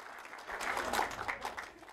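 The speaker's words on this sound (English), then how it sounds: "giving the drivers a very well-deserved round of applause" Crowd applause for racing drivers on the podium after a race at Snetterton, a steady, moderately distant wash of clapping lasting about two seconds, faint and fluctuating.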